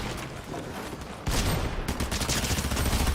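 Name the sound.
gunfire from a video game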